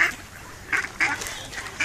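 Several ducks quack in short bursts while following people through a city park, a few close calls repeating at irregular intervals over light outdoor background noise.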